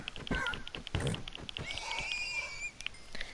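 A horse in a video game whinnies in a rising, quavering neigh amid rhythmic hoof clip-clops, with scattered clicks and thumps around it.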